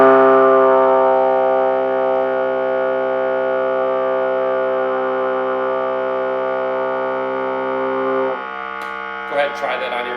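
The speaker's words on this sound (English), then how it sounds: "6th position, low C. It's going to be a pretty low note." Trombone sounding low C in sixth position, one long sustained brassy note held loud for about eight seconds before cutting off, followed by a brief faint clatter.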